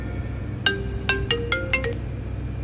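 A phone ringtone from an incoming call during a live broadcast sounds as a short run of bright, chiming electronic notes, moderately loud over a steady background hum.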